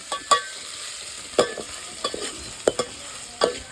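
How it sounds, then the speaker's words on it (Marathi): Long-sliced onion fries in hot oil while a spoon stirs it, with a soft steady sizzle broken by sharp clinks and scrapes of the utensil against the pan every half second or so. "लांब लांब कांदा चिरून तो तेलात सोनेरी होईपर्यंत परतवून घेतला"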